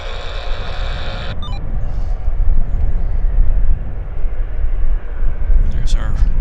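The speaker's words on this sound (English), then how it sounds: "There's our Westjet." WestJet airliner at Vancouver Airport, a heavy, continuous low engine roar with a high whine that cuts off early, swelling and holding at close range.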